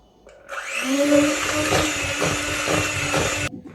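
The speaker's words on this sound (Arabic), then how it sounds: "فهسه اخلط هذه المكونات كلها، وتقدرون تخلطوها بمحضرة الطعام عادي هم تنخلط" A food processor mixing cocoa biscuit dessert ingredients, whirring up to a loud steady motor whine with rhythmic churning pulses for about three seconds, then cutting off abruptly.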